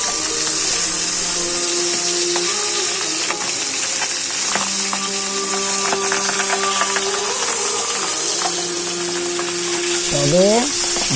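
Pabda fish fries in a pan of hot oil with a steady, loud sizzle that stays constant throughout, broken by a few soft clinks of a utensil against the pan.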